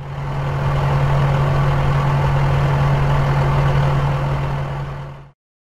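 A bulldozer engine runs at a steady idle, loud and close with a deep, even hum for about five seconds before cutting off abruptly.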